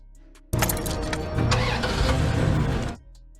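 A truck engine cranks and catches, then revs and pulls away in a steady, loud roar that holds for a couple of seconds before cutting off abruptly, with no voices.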